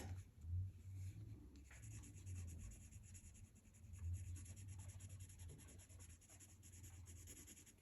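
Colored pencil making angled strokes on watercolor paper, a faint close scratchy rubbing that swells and fades in repeated passes, quiet and alone without talking.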